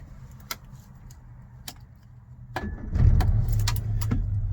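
A Rover P4 110 2.6 saloon engine cranks and catches after stalling, with a few sharp clicks and clunks before it, then settles into a low, steady idle close by.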